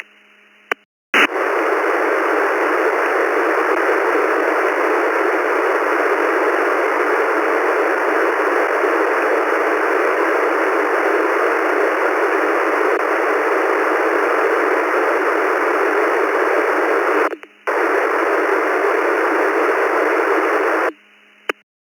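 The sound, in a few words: ham radio white noise static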